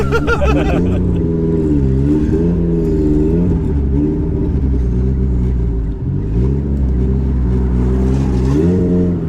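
A 900 HP Mitsubishi Evo accelerates hard, heard from inside the car as a loud, deep engine drone whose pitch climbs and dips through gear changes, sustained throughout the clip.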